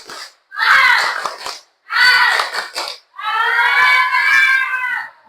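Children in a classroom doing a rhythmic clapping cheer with chanting voices, heard as three loud bursts of clapping and shouting separated by short pauses, the last burst running longer.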